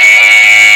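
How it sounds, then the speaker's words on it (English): A Wi-Fi smart wireless alarm system sounds as a door contact is separated: a loud, steady, piercing electronic tone holds unbroken for under a second. "So when we open this contact, we should hear an alarm."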